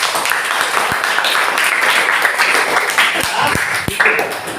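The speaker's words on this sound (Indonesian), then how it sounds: "Tepuk tangan teman-teman." Students in a classroom clap their hands together in a loud, quick burst of scattered applause, a few sharp individual claps standing out near the end.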